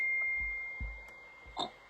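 Single short electronic phone notification beep, a thin high tone holding briefly then fading, faint against quiet room background with a few soft knocks.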